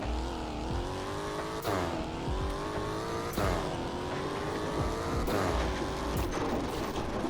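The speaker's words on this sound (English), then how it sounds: "We're gonna hit the acceleration, hit reverse at the same time, and allow the pressure to build up within the turbos, and take off." Roblox video game car launching with turbo boost, its engine revving loud and steady, with three sharp shifts where the pitch drops and climbs again as it speeds away.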